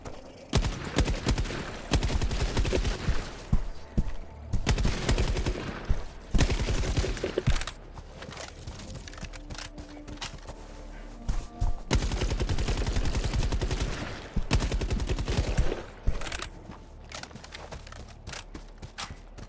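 An ODST SMG fires in Helldivers 2 in long, rapid bursts, dense rattling gunfire close up with brief pauses between strings of shots and other game noise underneath.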